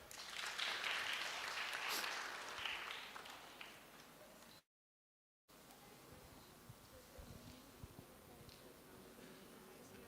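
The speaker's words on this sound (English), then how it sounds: "Let's clap for her." Classroom of students at a campus industry interaction session clapping for a volunteer, a dense burst of applause for about four seconds, then a short gap and quieter room noise with rustling.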